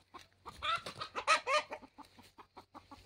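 Hens and a single rooster on a small backyard poultry farm cluck and squawk in a close, lively flurry of overlapping calls, loudest in the middle and then trailing off into scattered softer clucks.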